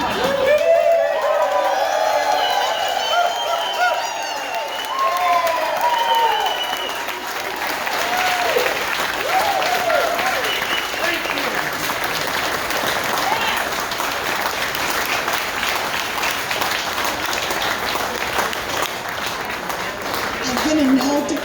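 A large audience applauds and cheers for a group of veterans from the class of '73. Loud, dense clapping goes on without a break, with whoops and shouts rising over it early on.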